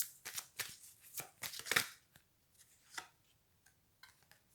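Tarot cards shuffled close by in a quick run of crisp riffling bursts, then a few softer, sparser flicks as the shuffle slows, in a quiet room with no talk.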